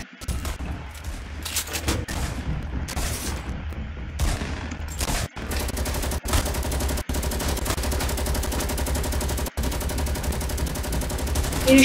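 Rapid assault rifle fire rattles through a Fortnite Battle Royale match, dense bursts of shots running nearly continuously with a few brief gaps, loud and close.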